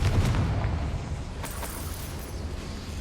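A Confringo spell bursts in Hogwarts Legacy as a muffled explosive boom with a low rumbling tail that fades over a few seconds, with a faint second crack midway.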